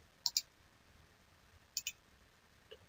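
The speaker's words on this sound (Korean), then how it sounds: "오른쪽 마우스 버튼 눌러서 두플리케이트" Two quick pairs of sharp, quiet clicks of a computer mouse's right button pressed twice in a row, separated by a short pause.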